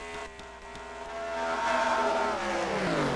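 Race trucks roar in a truck-series racing video game, engine tone climbing and sweeping as a vehicle accelerates near pit road, loud and continuous without voices.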